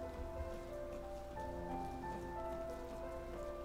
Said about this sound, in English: Oh! I hate when it's raining.